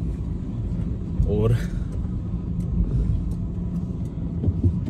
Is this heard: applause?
no